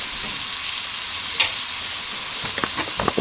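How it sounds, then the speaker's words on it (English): Beef and pasta fry in a skillet with barely any grease, giving a loud, steady sizzle up close, with a few stirring scrapes toward the end and no voices. "it's making nice sizzling sounds and getting brown in a couple of spots"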